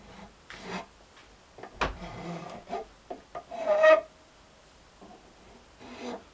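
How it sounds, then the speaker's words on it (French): A hand file rasping across a cut piece of beech wood in short, uneven strokes, with a few louder scraping passes and brief pauses between them, close up and alone. "Quand je lime."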